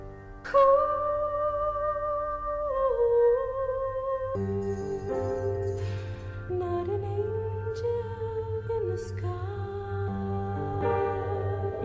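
Music sample for a hip-hop beat played in full, sustained melodic harmonic tones with shifting pitch and a bass layer, loud and continuous with no talking.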